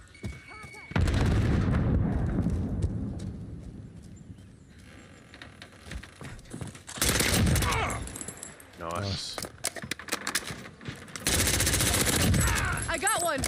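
An AS VAL rifle fires in a video game gunfight, with long, loud sustained bursts separated by quieter stretches and scattered clatter.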